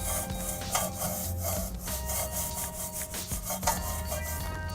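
A brush scrubs a car wheel rim with foam wheel cleaner in a series of close, rhythmic rubbing strokes with no talking.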